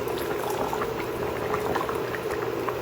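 Hot soup pours into a lunch container as a continuous close, bubbling liquid gurgle that stays steady for a few seconds with no speech.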